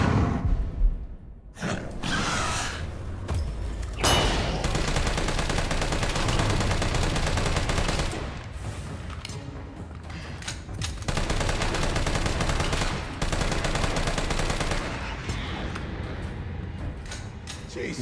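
Rapid gunfire from Resident Evil 3 Remake, with sustained automatic bursts emptying two full clips in heavy loud volleys, broken by brief pauses and mechanical clicks.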